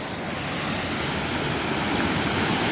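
A full waterfall pours in a loud, dense, unbroken roar of rushing water, close up and constant from start to finish with nothing else audible.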